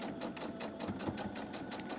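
A sewing machine stitching a quarter-inch seam on fabric with right sides together, its needle running in a fast, even, steady rhythm at close range.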